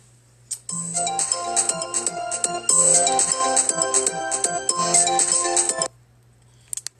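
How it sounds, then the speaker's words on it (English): A mobile phone ringtone plays a bright, repeating electronic melody for about five seconds, clear and fairly close, then stops abruptly, with a couple of faint knocks afterward. "Sorry about that, my phone was ringing."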